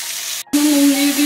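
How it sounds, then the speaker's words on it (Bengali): Onions sizzling in hot oil in a pan, a steady close fry with a short gap and a bright hiss surging back as they hit the oil. "এবার পেঁয়াজ ছেড়ে দিচ্ছি।"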